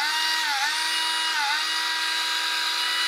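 A vintage National cordless drill with a newly rebuilt battery pack running at high speed, a loud steady high-pitched motor whine with two brief dips in pitch.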